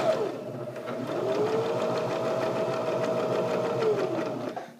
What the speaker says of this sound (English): go ahead and start sewing again